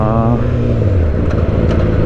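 A Yamaha R6 superbike engine revs hard in first gear, its loud, close whine sweeping upward in a continuous, steady roar with no pause.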